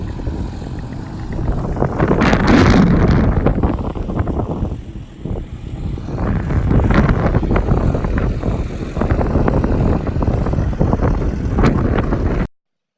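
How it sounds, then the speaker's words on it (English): Strong wind gusts buffet the microphone outdoors at a small airport, a loud, rumbling low roar that surges and dips in waves throughout, with no talking. "As you can hear, it's pretty windy."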